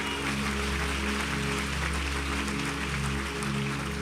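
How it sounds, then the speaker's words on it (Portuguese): A church congregation claps together in a dense, continuous wash of applause that holds steady throughout, with no voices standing out above it. "Aplauda o Senhor."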